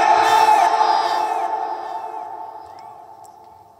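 A large crowd at an outdoor Islamic sermon gathering in Chapai chants "Allahu Akbar" in unison, answering a takbir call. The massed voices swell loudly at first, then hold and slowly fade as the chant trails off.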